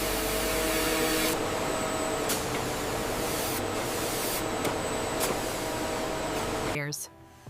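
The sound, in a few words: robotic machines spraying protective finish on leather sheets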